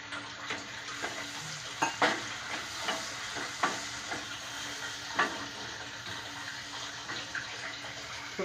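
Tomato masala with turmeric frying in oil for misal pav hisses steadily after a splash of water, with soft spoon scrapes and stirring knocks recurring every second or so, close up with no voices.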